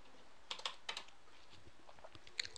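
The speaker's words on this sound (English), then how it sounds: "Sorry I'm typing slow" Slow, sparse typing on a computer keyboard, a few scattered quiet key clicks with uneven gaps, close and faint in a quiet room.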